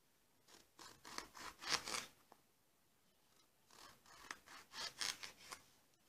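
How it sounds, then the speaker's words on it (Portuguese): A knife slices eggplant into rounds about one centimetre thick. Two short runs of crisp, rhythmic cutting strokes are heard close by, with a brief pause between them and no talking. "Vou terminar de cortar aqui e já volto."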